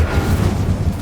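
Spell blasts rumble in a Hogwarts Legacy fight, a loud continuous low boom without any voices, close and dense throughout.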